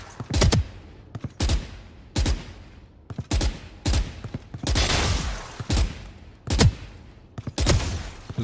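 Gunshots ring out in Valorant aim practice, sharp bursts fired in short groups of two or three with brief pauses between, close and loud.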